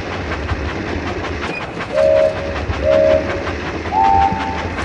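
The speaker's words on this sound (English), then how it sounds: "Steer your engine through the sharp curves" A Thomas the Tank Engine train in a video game runs along Crazy Coaster Mountain, a continuous rumbling rail clatter overlaid by three short whistle toots in a row, each rising slightly in pitch.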